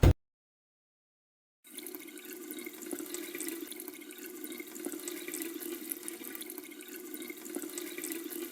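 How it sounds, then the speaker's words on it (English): Water runs in a steady, gentle stream like an open tap, beginning after a brief silence and continuing evenly and fairly quietly with faint splashes, and no talking. "We'll begin again with the running water in the background"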